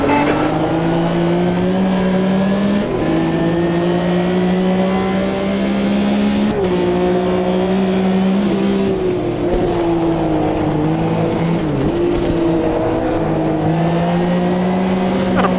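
Racing video game engines drone steadily, with a Porsche close behind and its engine note sitting just beneath the lead car's loud, sustained tone, which shifts pitch at each gear change across the lap.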